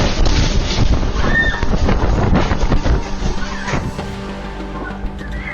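A strong windstorm with heavy rain in Nanchang roars as a constant, loud rush of wind buffeting the microphone, with rumbling gusts throughout and no clear voices.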